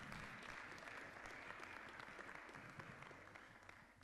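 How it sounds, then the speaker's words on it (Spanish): A church congregation claps steadily for several seconds during a sermon, dense and even, fading slightly toward the end. "Ven, Jesús, dame un aplauso a este valiente"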